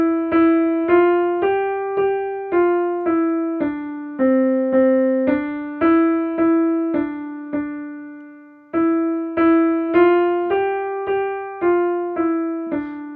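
A single melody line of piano notes played at a steady, moderate pace, each note struck clearly and decaying, with a brief pause midway.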